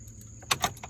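An ignition key turning in a 2002 Chevy Trailblazer truck, heard as a brief metallic jingle of keys with a couple of close clicks over a quiet cabin hum.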